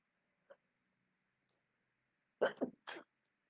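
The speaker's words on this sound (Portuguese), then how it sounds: "sabe quando vem um espirro?" A quiet, isolated sneeze from a woman: a small catch of breath, a short pause, then two or three sharp bursts close together, set against near silence.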